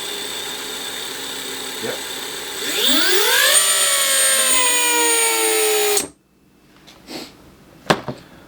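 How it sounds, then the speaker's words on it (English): A skylight motor spins up, whining in rising pitch to a steady high drone before cutting off abruptly, followed by a few faint clicks and a brief spoken word. "Let's see if the motor's on."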